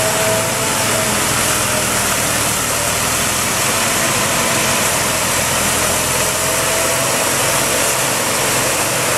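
Loud, steady rumble of a New Holland tractor engine running continuously close by during corn silage making, droning without change and with no voices.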